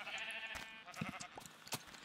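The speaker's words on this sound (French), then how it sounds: "il y en a plein des moutons" Sheep bleat in the video game Minecraft, a few short faint calls over a soft steady background with no talking.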